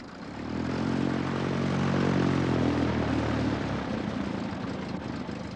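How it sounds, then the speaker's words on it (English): Float plane flying over Prince William Sound in a remote island region, its propeller engine droning steadily with a harmonic hum that swells as it passes close overhead, then recedes slightly. "The float plane is the principal link between the remaining scattered settlements among the islands."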